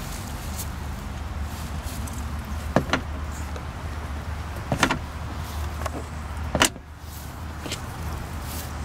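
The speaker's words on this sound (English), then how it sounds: "This rear seat here folds down." The rear seat of a Kia Sportage folds down in three distinct clunks and thuds, spaced a couple of seconds apart, over a steady background hum.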